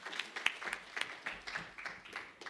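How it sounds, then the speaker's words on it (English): Scattered, fairly light clapping from an audience at a membership launch event, with distinct individual claps rising and falling over a couple of seconds. "Give it a round of applause for Frank."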